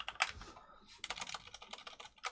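Quick, close typing on a computer keyboard, with fast irregular bursts of clicky keystrokes and a short pause near the start. It plays alone and fairly quietly.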